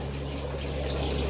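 Bagged goldfish dipped into a tank of water give a soft, steady trickling and sloshing, close and continuous over a low hum.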